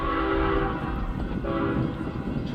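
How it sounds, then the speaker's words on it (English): A BNSF train passes close by, its horn sounding in two long blasts over a steady rumble of rolling wagons. "The train is coming!"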